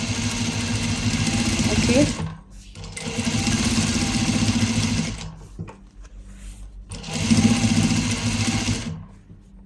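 A sewing machine stitches panties with double stitching, running in three steady whirring bursts separated by short pauses, close and loud, with someone speaking briefly in the gaps.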